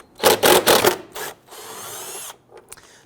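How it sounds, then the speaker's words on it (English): Impact wrench loosening two 10mm bolts on a 2008-2013 Infiniti G37 during thermostat housing work, several loud close whirring bursts followed by a longer spin-down and a few small clatters. "We're going to use our impact unit."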